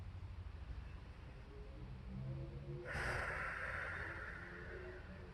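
A single slow breath drawn in through the nose rises into a soft, airy rush and then trails off, quiet and close over low background rumble, with no talking.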